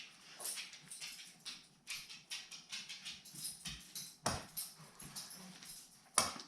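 A dog whimpers and whines in repeated short, breathy bursts near a smoker during an outdoor barbecue of Korean-style gochujang chicken, with a couple of sharper clicks or thumps mixed in.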